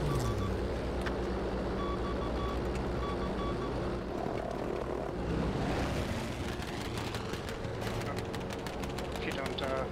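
Propeller aircraft engine drone from a bomber in an air-combat video game, a steady loud continuous roar filling the whole stretch with shifting engine tones.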